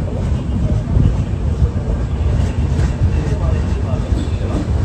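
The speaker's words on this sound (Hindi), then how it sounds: "भाई ये आ रही है केरला एक्सप्रेस।" Kerala Express train pulling into Chengannur station in India, a steady loud rumble of rolling wagons with faint clickety-clack, heard up close on the platform.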